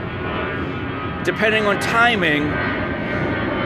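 An airplane passes overhead as a broad, steady engine roar behind someone talking close by, with the pitch shifting downward as it goes.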